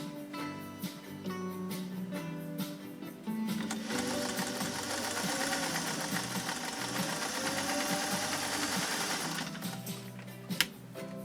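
A Singer 404 sewing machine stitches through two layers of Italian leather about 5 mm thick, running at a steady, even mechanical whir that starts lightly, speeds into a continuous stitching drone, then slows to a stop, with no talk.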